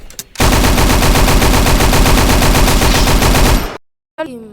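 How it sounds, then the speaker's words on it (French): Mechanical pistol firing in a Roblox game, a loud dense continuous rattle of rapid shots lasting about three seconds, then an abrupt cut to silence and a brief electronic sound. "Je suis trop content du pistolet mécanique"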